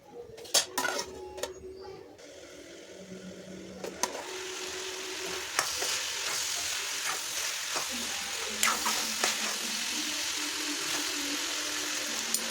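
A pan of kalagura curry cooks and gets stirred, opening with a few sharp utensil clacks before settling into a soft, steady sizzle dotted with occasional light taps, fairly quiet and close.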